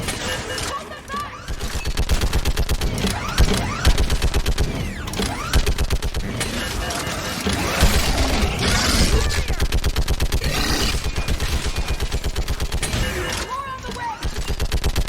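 Rapid sustained gunfire fills a firefight in Mass Effect 3, with dense continuous bursts and mechanical clatter throughout, loud and close, while a voice briefly speaks over the shooting.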